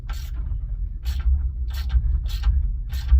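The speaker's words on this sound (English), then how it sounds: "We're just going to loosen our 4 bolts that hold our pin holder on" A ratcheting wrench works loose the bolts on a Brunswick GSX bowling pinsetter's pin holder, five crisp clicking bursts in an even rhythm over a low mechanical hum.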